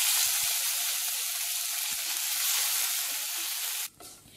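Cumin and a handful of curry leaves sizzling in hot oil, a loud, steady broadband crackle and hiss that drops off sharply near the end.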